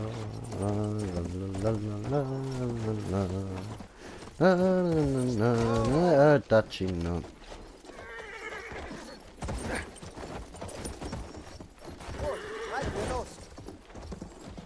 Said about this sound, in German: Ich kann die Pferdli reiten.